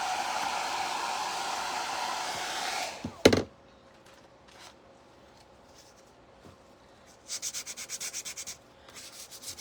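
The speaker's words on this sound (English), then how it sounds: "Let me go ahead and sand that just a little bit so I can paint that." Sandpaper rubbed by hand over a painted wooden craft piece, a steady close scratchy rasp for about three seconds, then a sharp knock and quiet, before short rhythmic bursts of sanding return near the end.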